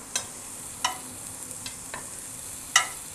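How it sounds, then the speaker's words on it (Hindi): Potatoes and brinjal fry in a pan with a soft, continuous sizzle. A few sharp spatula clinks and stirs land at irregular intervals, close by, with no voices. "तो ये जो आलू है ये भी हम सारे इसी में डालेंगे"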